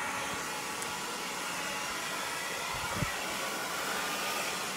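A handheld hair dryer blows a steady, loud broadband rush while long layered hair is being styled, running continuously without pause; a faint low thump is heard near the end.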